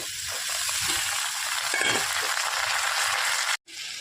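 Homegrown ridge gourd pieces and potatoes fry in a pan with a chilli tempering, giving a steady broad sizzle with a few faint stirring clinks, then a sudden brief drop near the end.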